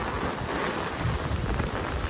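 Heavy rain driven by strong wind pours down in a dense, continuous hiss and patter, steady and close, with no voices.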